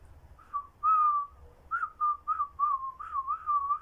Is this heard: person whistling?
yes